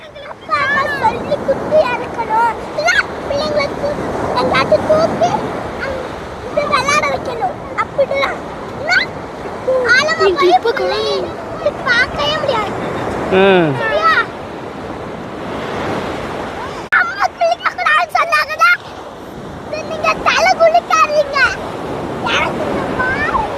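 Sea waves break repeatedly on the shore in swelling, rushing surges, with wind buffeting the microphone and people talking over the surf throughout.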